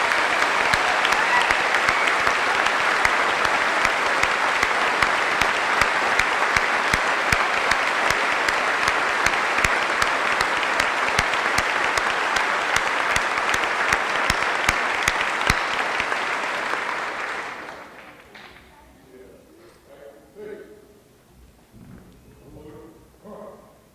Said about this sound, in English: So let's have a round of applause, please.